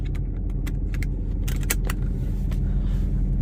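A C7 Corvette idles and begins to roll out on the way to a cars and coffee show, a steady low engine rumble close by, with sharp metallic jangles and clicks like keys on top.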